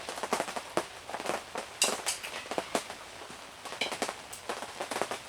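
Rain falling at a campsite lunch with a Coleman stove on a gray day: dense, crackling patter of drops striking a nearby surface, irregular and continuous, with sharper pops scattered throughout.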